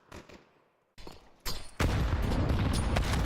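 Grenade explosions during a professional Counter-Strike esports match, a series of booming, crackling blasts that start faint and build to a loud, sustained roar.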